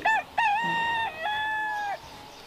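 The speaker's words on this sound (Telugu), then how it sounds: "కోడిపుంజు పాడుగాని ఇంత పొద్దుగానే వస్తాను" Rooster crowing nearby in a village, two short opening calls followed by a long drawn-out crow, clear and alone against quiet background.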